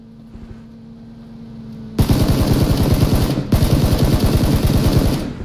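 Gunfire in PUBG: two loud, rapid bursts of automatic shots, the first lasting about a second and a half, a brief gap, then a second sustained burst, close and dominant with no talking.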